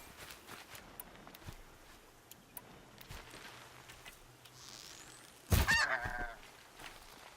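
A goose honks in Horizon Zero Dawn, a brief loud burst of calls over quiet game ambience with soft footsteps earlier.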